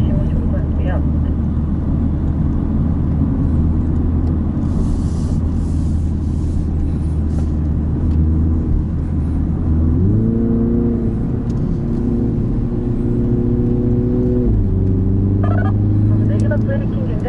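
A MINI JCW Countryman drives a race circuit, its engine a steady loud drone from inside the cabin that shifts pitch upward midway as revs change, with an instructor talking over it throughout.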